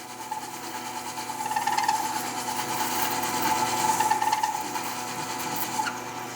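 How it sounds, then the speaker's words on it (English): A lathe parting tool cuts into a spinning wooden fishing lure, giving a steady, faint scraping whine that swells slightly mid-cut, with no voices. "I'm just going to use my parting tool, and I'm going to go in almost all of the way, so I have a good stopping point"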